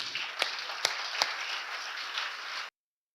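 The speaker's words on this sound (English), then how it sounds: "So a big clap for them, please." Crowd applause at a live evening event hosted by a family, a broad wash of clapping with a few sharper claps standing out, steady, then cut off abruptly.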